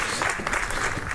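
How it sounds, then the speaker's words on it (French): Conference audience applauding, dense continuous clapping throughout at an even, fairly loud level. "Et là, vous pouvez l'applaudir et être bienveillant."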